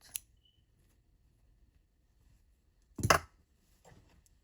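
A single quiet snip of scissors cutting crochet yarn, a brief sharp click near the middle with faint small handling sounds before and after in otherwise near silence.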